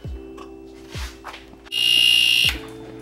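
An electric egg cooker beeps when the eggs are done: one sustained, loud electronic tone lasting just under a second, following several soft clicks in a quiet kitchen.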